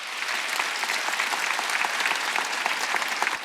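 Steady, dense applause from a church congregation at a Wednesday worship service, sustained evenly for several seconds with many overlapping claps and no talking on top.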